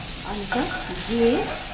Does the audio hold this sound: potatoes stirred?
yes